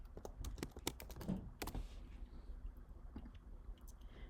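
Quick, quiet keyboard typing of a few words on a computer, a rapid cluster of close key clicks that thins out into faint room noise.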